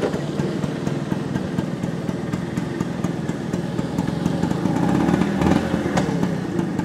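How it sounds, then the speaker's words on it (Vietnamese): A 1962 Vespa scooter engine runs at a steady idle nearby, a continuous buzzing putter with a slight swell in loudness near the end. "Tiếng máy của nó mọi người ạ."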